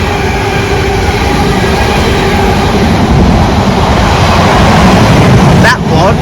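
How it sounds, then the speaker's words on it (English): A freight train passes through Tamworth station, a loud steady rumble and rolling roar of wagons close by for several seconds, with a sharp metallic screech near the end. "We've got a freight train passing through here at Tamworth."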